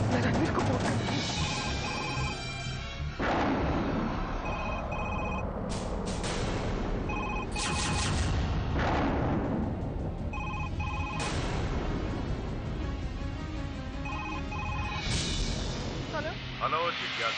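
A telephone rings repeatedly in a household scene from a Hindi TV drama, the electronic bell bursts repeating in a regular pattern over dramatic background music, loud and close.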